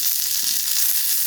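Mustard seeds and curry leaves tempering in hot coconut oil, a steady bright sizzle with faint crackling, close and continuous, with no voices.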